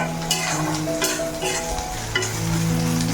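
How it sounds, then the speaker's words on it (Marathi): Onion sizzles and fries in a pan while being stirred, a steady close crackle with occasional scraping, during preparation of a spicy Bombay duck (bombil) chutney. "कांदा पण पोळतोय आपला"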